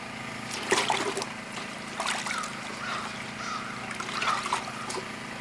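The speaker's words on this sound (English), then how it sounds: "I'm just gonna wash him off." Water trickles and splashes while a freshly caught Maine trout is rinsed at a cabin hunting camp, with intermittent gushes over a low steady hum.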